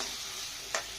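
Tomatoes and shallots are stirred while frying in a pan for a spicy yellow pumpkin kara kuzhambu: a steady, close hiss of oil runs throughout, with one brief scraping stir near the end.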